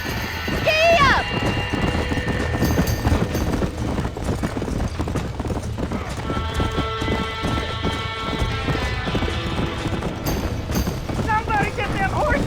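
Horses gallop with steady, rapid clip-clop hoofbeats as a barn burns in Red Dead Redemption, joined by bursts of whinnying, music and voices.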